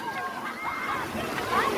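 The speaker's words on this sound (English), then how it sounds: "Then there is water flowing." Water flows and sloshes along a small stream in a Kenyan compound, a continuous close rushing sound with a voice faintly audible beneath it.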